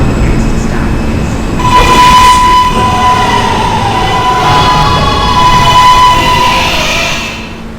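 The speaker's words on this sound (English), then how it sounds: "This is a Myrtle Avenue bound R local train." An R143 subway train runs loudly along the rails with a steady rumbling roar and rattling wheels, a sustained tonal whine rising over the noise midway before the sound eases slightly at the end.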